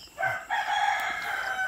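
A rooster crows close by, a single loud drawn-out call with a brief break early on, otherwise no other sounds.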